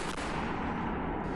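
Artillery shelling by the Indian Army across the Line of Control toward Pakistani army bunkers: a loud, continuous barrage of blasts and rumbling that merges into one dense roar, with no voices.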